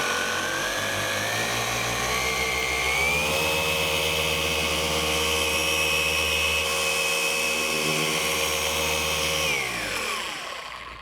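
Machine polisher buffing car paint to remove swirls, a steady whirring motor whine that rises in pitch as the speed comes up, holds high, then winds down near the end.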